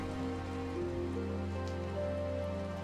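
Cartoon rain sound effect: a steady, continuous hiss of falling rain sits under a sustained musical backing, at an even level throughout.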